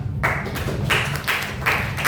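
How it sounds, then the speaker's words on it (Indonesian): A school class claps for group 1 during a classroom lesson, the bursts of hand claps coming in a patterned, rhythmic sequence of several distinct groups rather than a continuous wash. "Beri tepuk tangan."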